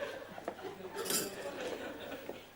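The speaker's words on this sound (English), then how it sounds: "May I have the spoon to stir my kiffy?" A spoon clinks against a cup as a drink is stirred, a few light metallic taps and scrapes over a soft background murmur and faint chuckling in a sitcom scene.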